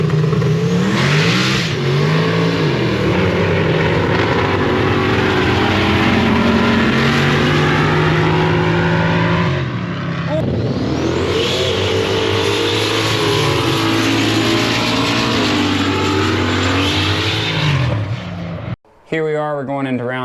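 Drag racing cars make passes down the strip in round one, their engines roaring loud and sustained with revving swells, nearly continuous for the whole stretch before a brief cutoff near the end.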